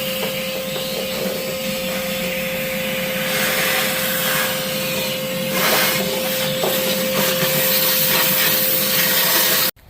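A vacuum cleaner runs steadily and close up, sucking dust and ash out of a pellet grill during cleaning, its broadband roar shifting slightly as the nozzle moves, with no talking, until it cuts off at the end.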